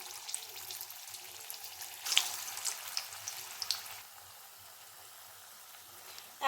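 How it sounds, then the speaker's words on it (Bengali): Jackfruit koftas dropped into hot oil in a kadai give a steady, close sizzle and crackle with brief louder bursts of spattering, then a softer even fry, with no talking. "তেল গরম হয়ে যাওয়ার পরে আমি এর মধ্যে কোফতাগুলোকে দিয়ে দিচ্ছি"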